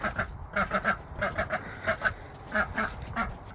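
A domestic duck on a farm homestead gives a series of raspy, nasal quacks in quick clusters, fairly close and moderately loud, with short pauses between bursts.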